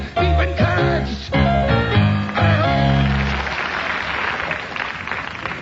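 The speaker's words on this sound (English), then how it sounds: "They clapped." Applause breaks out in a radio drama after a song ends, rising as the last sung notes fade and carrying on as a steady, fairly loud wash of clapping.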